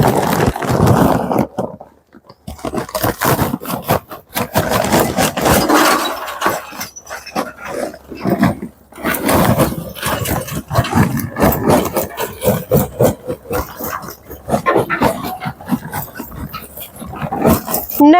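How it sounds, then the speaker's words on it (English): Lump charcoal poured and shifted into the firebox of an all-in-one BBQ hot box, a dense run of rattling, clattering and scraping chunks that continues nearly the whole time, close and loud, with one brief pause. "we're going to put our lump charcoal in the all-in-one hot box"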